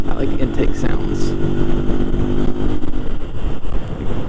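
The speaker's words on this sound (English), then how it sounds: "There's definitely more tony with that snorkel off the intake, this bike." Motorcycle intake noise with the snorkel removed from the airbox, a loud, close, throaty engine roar that rises and falls while the rider talks over it.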